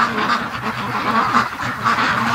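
Stressed free-range ducks crowded in a corner give a steady stream of overlapping quacks, close and loud, with no pauses in the restless clamor.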